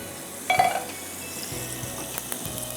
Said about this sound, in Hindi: जब तक चिकन हमारी फ्राई हो रही है